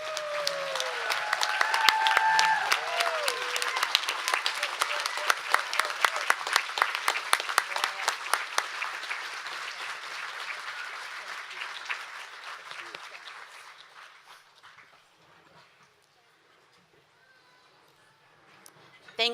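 A crowd applauds at a Citizen of the Year award ceremony in Fairbanks, Alaska: loud, crisp clapping that gradually thins and fades away to near silence.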